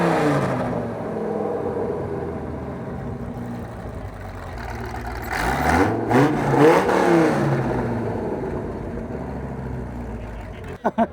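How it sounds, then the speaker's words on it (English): A Datsun Z car swapped with a Viper engine revs at a SEMA show, a low idle rising into several sharp revving bursts midway before settling again, with people talking nearby. "the revving's kind of cool."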